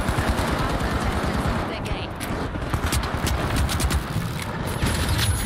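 Rapid automatic gunfire in the video game The Finals, dense bursts of shots in quick rhythm continuing throughout, loud and close, with excited voices over it.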